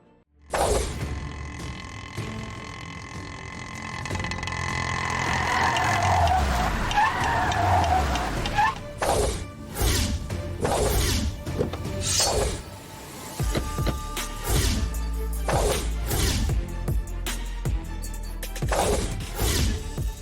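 A car's tires screech in a long skid as it brakes to a sudden stop, followed by sharp clattering impacts and bangs in a dramatic television scene.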